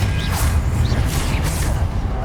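A Confringo blasting curse cast in Hogwarts Legacy, a rushing whoosh with crackling bursts repeating a few times in quick succession, loud and steady throughout with no talk.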